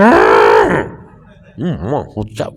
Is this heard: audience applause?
no